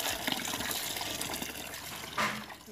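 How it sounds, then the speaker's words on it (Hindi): Water pours and splashes as potato slices, soaked for a day to make chips, are rinsed and drained. It is a fairly quiet running gush with a brief louder splash near the end. "24 घंटे रखने के बाद पानी में इसे 2-3 बार धुल लेंगे और धुलने के बाद इसे छान लेंगे।"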